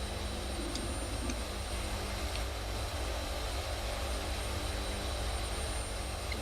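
A steady, unbroken jet roar from an F-18 sitting on the runway in a flight simulator game, loud and constant throughout with no pauses or speech.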